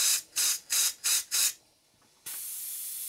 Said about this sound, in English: there's still no noise coming from the siren, other than a watery whistling sound